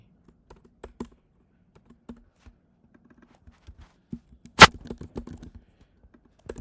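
Code is typed on a computer keyboard in a quiet room: sparse, soft keystrokes tap out irregularly, with one sharp, loud key clack partway through followed by a brief quicker burst of taps.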